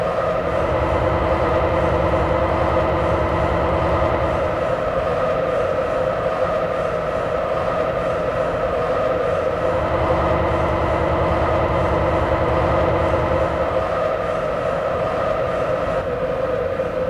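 Guiyang Metro Line 1 train simulated in the Hmmsim2 game, a steady loud rumble of the moving train with rhythmic wheel noise and tonal motor hum, no voices.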